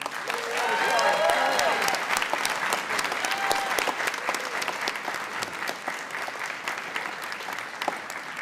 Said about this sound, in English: can you give a huge round of applause for our fantastic MC, Tara Flynn?